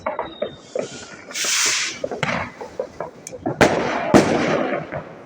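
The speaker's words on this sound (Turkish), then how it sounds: "Herkes evinin önünde de havai fişek patlatıyor." Fireworks burst outside houses on New Year's, loud cracks, booms and fizzing whooshes in irregular succession, some close and sharp, with a person talking in between.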